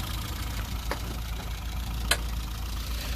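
A steady low engine idle at about 750 RPM hums continuously up close, with a couple of brief sharp clicks over it and no talking.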